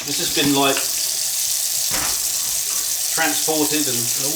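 Tap water runs steadily into a sink while a slightly bowed plastic hydrometer lid is rinsed for stout homebrewing, a continuous close hiss beneath someone talking on and off.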